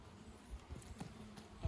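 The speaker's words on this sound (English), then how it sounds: "And look at all those bees." Honey bees buzzing around an open beehive during an inspection, a faint, thin hum with a few louder passes close by and soft handling bumps.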